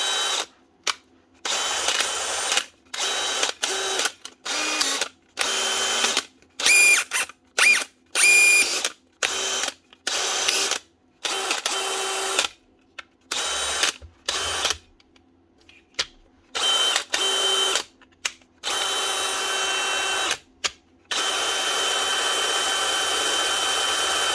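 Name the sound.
DeWalt DCD996 cordless drill running after repair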